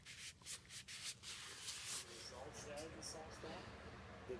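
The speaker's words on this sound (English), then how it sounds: "rubbing off the excess." A rag rubs excess finish off a chisel with a soft, continuous swishing friction, close and fairly quiet, with faint speech in the background.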